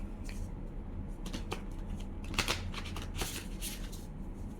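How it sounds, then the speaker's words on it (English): A tarot card deck being shuffled by hand, a steady run of papery riffles and flicks up close, with no talking over it. "I'm just gonna shuffle it and then cut it."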